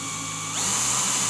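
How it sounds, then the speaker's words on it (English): A power drill boring a hole straight through a guitar body for a string-through bridge, the motor running steadily, then pitching up and growing louder partway in as the bit bites. "Now this first one here I'm going to drill all the way through"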